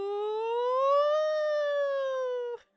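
A single voice imitates an approaching ambulance siren outside a hospital, holding one smooth, loud wail that rises, levels off and slowly falls before cutting off abruptly.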